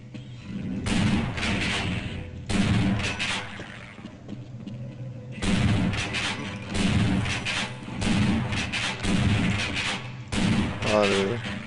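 Gunshots in the video game Half-Life, several loud booming bursts of fire spread through the stretch with short gaps between them, and a voice talking over the action.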